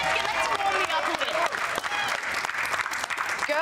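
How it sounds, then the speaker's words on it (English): Studio audience applause on a television talk show, brisk clapping and cheering under loud music, continuous throughout with sharp individual claps standing out. "Let's give her a round of applause first."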